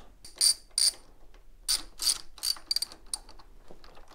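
Ratchet wrench loosening the top handlebar clamp bolts on a BMW R1250GS motorcycle during a bar riser install, a series of crisp, close clicking bursts separated by short pauses.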